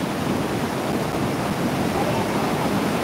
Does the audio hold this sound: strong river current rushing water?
yes